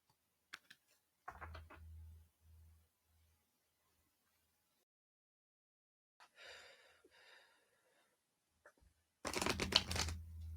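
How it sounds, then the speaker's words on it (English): Playing cards are shuffled in three quiet, separate bursts of riffling and flicking, with the last burst the loudest, in an otherwise silent room. "how much could I really shuffle these cards with my eyes closed?"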